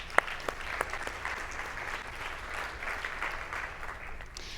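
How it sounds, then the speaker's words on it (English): An audience applauds at a football symposium, a steady wash of clapping from a seated crowd heard from a distance, fairly soft, with a few sharper claps near the start. "A round of applause once again."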